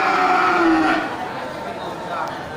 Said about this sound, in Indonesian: sapi-sapi untuk pengisi kandang kosong banyak terlihat di pasar hewan Grogol tanggal 21 September 2021